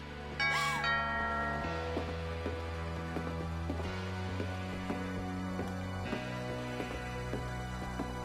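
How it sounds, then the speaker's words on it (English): Doorbell chime from the video game What Remains of Edith Finch: a bright ding-dong bell tone rings out near the start, then fades under a low sustained musical score with steady tonal notes and no talking. "Some dingling ding dong. At the door"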